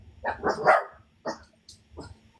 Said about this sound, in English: You made the dog bark.